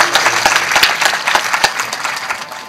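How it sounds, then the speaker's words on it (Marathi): An audience at a Marathi kirtan claps loudly in a dense burst, with some sharp individual claps standing out from the steady applause. "वाजवा टाळी"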